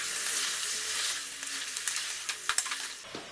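Chicken frying in a pan over a high gas flame, with a continuous loud sizzle and a series of stirring clatters and scrapes that grow more frequent toward the end, all close and with no talk.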